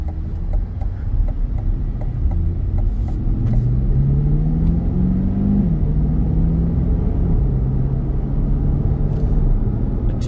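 A 2025 Chevrolet Corvette E-Ray heard from inside while driving, a steady low engine and road rumble with a gradual rise in pitch as it accelerates, then settling into a constant drone.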